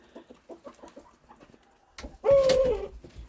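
A bird coos in a series of soft, low, regular pulses at a farm kept with chickens and goats in snowy Newfoundland, followed by a louder, longer crow-like call up close.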